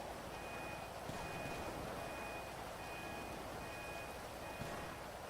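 A jeep's car alarm in GTA 5 sounds as a steady, repeating electronic beep tone at moderate distance, running continuously over a dense bed of ambient city noise and engine rumble.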